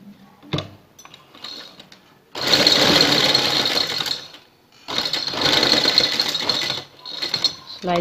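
Sewing machine stitching around a garment neckline, running in two long close bursts with brief starts and stops between them, loud and near, no talk.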